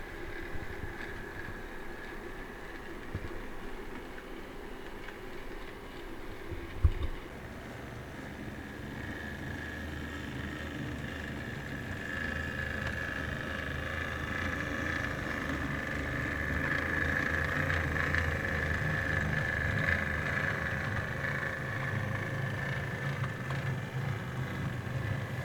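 One of the cheapest new Italian-outline model locomotives runs along its track with a steady whining motor hum and a low rumble. The sound grows slightly louder as the train nears, with one sharp click partway through.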